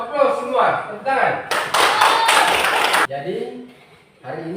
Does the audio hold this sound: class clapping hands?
yes